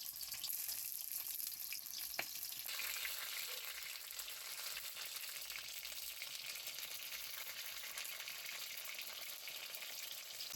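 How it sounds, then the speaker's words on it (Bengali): Pointed gourds stuffed with paneer fry in hot oil, giving a continuous close, crackling sizzle with bursts of spattering, plus a sharp clink near the start. "পটলের ভাজার সময় অনেক তেল ছিটে"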